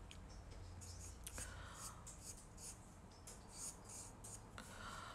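A pencil sketches a fox on paper, faint scratchy strokes and light rubbing in short bursts, close and quiet against a low background hum.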